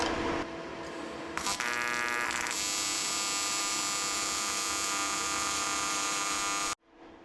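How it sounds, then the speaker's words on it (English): Bench or angle grinder spinning against a TIG welding tungsten to clean it off, a steady loud whining hum with a brief higher-pitched grinding contact early on, continuing for several seconds before cutting off abruptly. "so you just got to clean it off with the grinder"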